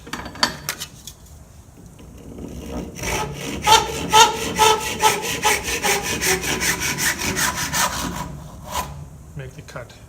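Hand saw cutting through a piece of wood clamped in a vise while making a whistle, a steady run of rhythmic back-and-forth strokes building to a loud, close rasp, with a few knocks at the start and end.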